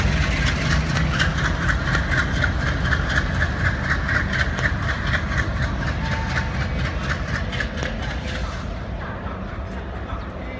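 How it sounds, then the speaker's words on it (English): A twin WDG3A diesel locomotive rumbles and idles loudly at Daund Junction during a loco change, its heavy engine throbbing under rhythmic clanks that ease off near the end. "witnessing the decoupling and taking away the diesel locomotive, which will be replaced by an electric locomotive"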